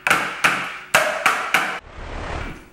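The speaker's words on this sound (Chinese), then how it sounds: "我们要将烤盘的4个角" Baking tray lined with parchment rapped against a countertop to knock out air before macaron shells bake, five sharp, loud knocks in a steady rhythm followed by a soft rustle.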